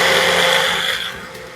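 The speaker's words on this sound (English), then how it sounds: "So you can use any blender you want to blend this up." A small Ninja blender whirs at high speed blending enchilada sauce with brown sugar, a loud continuous motor roar that eases slightly toward the end.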